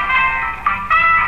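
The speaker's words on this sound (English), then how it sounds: "There's a little ice cream jingle" A car horn in the Watch Dogs video game plays a short tonal ice cream jingle, loud and close, in a few sustained musical bursts with no talking.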